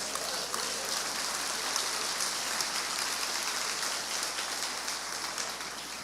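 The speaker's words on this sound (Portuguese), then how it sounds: "Dá um aplauso ao Senhor" Steady, dense applause from a church congregation, a soft even wash of many hands clapping at a distance with no voices standing out, holding at a constant level throughout.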